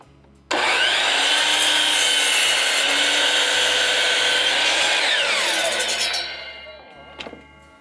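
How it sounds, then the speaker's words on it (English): A power saw rips through a wooden board for a final cut, a loud steady buzzing cut lasting about six seconds before winding down, with a few light knocks after, heard outdoors with no talking. "So let's go ahead and make our final cut."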